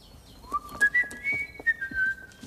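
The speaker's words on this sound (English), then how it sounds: "whistling" A person whistles a short, wavering tune nearby, sliding between notes, with faint clicks and knocks in the background.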